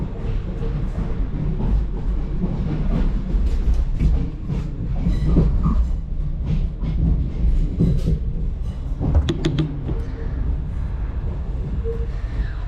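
Southeastern Class 465 electric multiple unit running on rails, heard from on board as a steady loud rumble with rhythmic clickety-clack of wheels over rail joints and occasional brief squeals.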